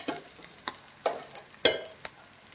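Rice with cumin powder, pepper powder and salt is stirred in a pan for egg fried rice: a few sharp, close scrapes and taps of a spoon spaced about half a second apart over a faint low sizzle.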